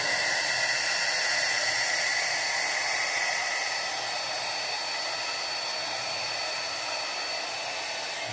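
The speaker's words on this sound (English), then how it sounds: "My apologies for the blow dryer." A blow dryer used to style a mustache, a loud, steady close-up whoosh of air that holds unbroken throughout with no talk.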